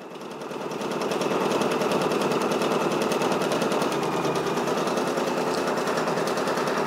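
A Brother PRS100 embroidery machine stitches a patch with a fast, steady mechanical chatter that swells in the first second and then runs evenly and loud to the end, close by, with no voices.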